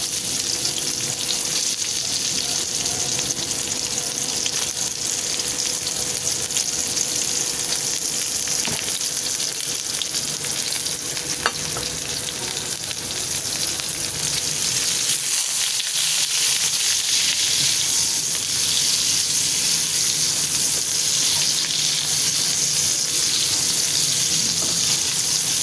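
Onion and garlic frying in a pan produce a loud, dense, continuous sizzle and hiss up close, with occasional stirring, lasting throughout without speech.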